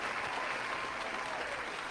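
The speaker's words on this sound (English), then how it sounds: "The hand clap is about the good news you just gave us" A studio audience breaks into steady, dense hand clap applause on a Chicago talk radio broadcast, a continuous bright wash of clapping at moderate level with no voices over it.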